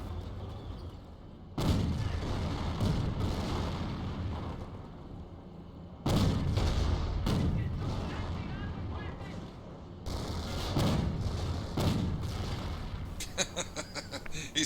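Gunfire from Piet infantry squads shooting over a hedge at Angoville in a Company of Heroes match, heard as repeated bursts of booming shots and rattling fire that swell and fade in waves, with a voice talking over them.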